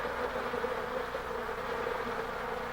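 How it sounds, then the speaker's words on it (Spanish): Honeybees fanning their wings inside a hive to cool it and evaporate water, a steady, dense buzzing drone that holds at an even level throughout, with no voices. "El vigoroso movimiento de sus alas produce corrientes de aire que evaporan el agua, y así desciende la temperatura."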